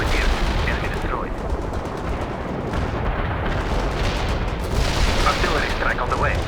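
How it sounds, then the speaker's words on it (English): Artillery strike and gunfire in the video game World in Conflict, with dense, loud rumbling blasts and rattling fire running continuously, while a radio voice talks over the battle. "Artillery strike on the way."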